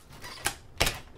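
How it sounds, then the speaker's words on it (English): A bottle opener slits packing tape on a cardboard box for an NZXT Phantom 820 full tower case, making two quick, crisp ripping snaps close to the microphone. "Got my bottle opener here. It's the only thing I could find, but I think it'll do the trick."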